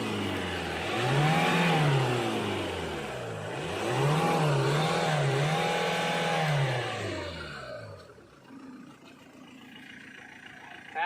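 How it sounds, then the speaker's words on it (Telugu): Tata Indigo car engine running and revving in a few rising and falling surges, fairly loud and close, then dropping to a quieter idle near the end. "ఒకసారి ఇంజిన్ స్టార్ట్ చేయండి."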